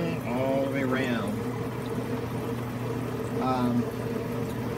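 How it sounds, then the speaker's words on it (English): A Kedsum 880gph water pump bubbles and gurgles steadily in water, with continuous near splashing and pouring-like churning, while a person talks over it. "with this pump, you see the bubbles are kind of going all the way around."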